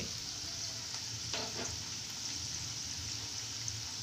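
Veg manchurian balls fry in hot oil in a pan, giving a steady close sizzle with a few brief stirring clatters.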